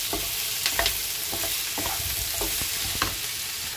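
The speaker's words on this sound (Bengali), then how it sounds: "এবার পেঁয়াজগুলো ঢেলে দেবো। পেঁয়াজগুলো ঢেলে দিলাম।" Onions frying in oil with cumin and bay leaf for a chicken curry, a steady close sizzle with scattered stirring scrapes and clicks throughout, no voices.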